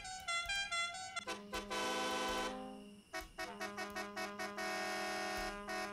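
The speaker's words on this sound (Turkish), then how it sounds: "Havalı güzel bir kornamızı aldık." A loud, tonal bus horn blares in several bursts in Bus Simulator Ultimate, some sustained and some in short pulses, with no talking.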